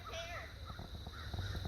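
Wild crows caw in short harsh bursts while mobbing a hawk near an owl nest in pine trees, several calls scattered across the moment, fairly faint and mixed with low background rumble.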